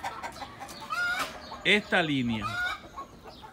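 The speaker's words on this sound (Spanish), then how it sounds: "Por los gallos de combate." Fighting roosters clucking and calling up close, several harmonic squawks and a drawn-out call midway, heard under someone talking.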